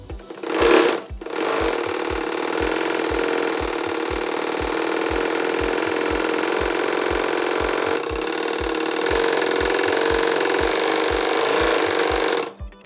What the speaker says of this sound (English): In order to wind the bobbin, make sure the lever is in the forward position.